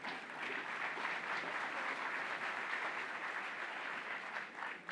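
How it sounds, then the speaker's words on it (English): Audience applause for the Leader of the Opposition, Carla Beck, as she is introduced on stage, a sustained even wash of many hands clapping at moderate distance. "Please give her a round of applause."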